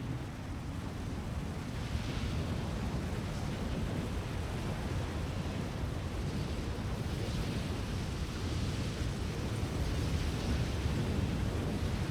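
A thunderstorm at a homestead in Farming Simulator 25, with steady heavy rain and wind roaring as a dense wash of noise, and deep rumbles of thunder swelling now and then underneath, with no talking.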